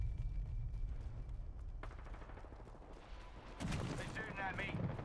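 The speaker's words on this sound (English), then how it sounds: "They're shooting at me." Gunfire from the video game Apex Legends, with rapid bursts of shots and a sharp boom over continuous game noise, and a voice talking over part of it.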